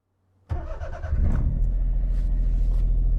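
A Daihatsu Handivan L700 with a 989cc engine cranks briefly and fires, then settles into a close, steady idle with a deep rumble, heard alone.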